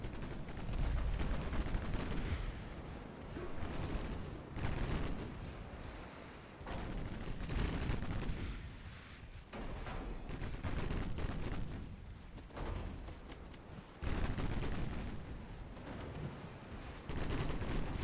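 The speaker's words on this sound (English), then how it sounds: "He's got some 7-inch secondaries that are being a problem." Seven-inch secondary guns on a French warship firing in the naval strategy game Ultimate Admiral Dreadnoughts, loud repeated cracking volleys layered over a constant rumbling battle roar, coming in surges and brief lulls.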